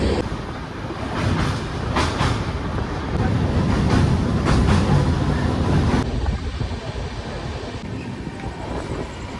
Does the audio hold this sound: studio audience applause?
no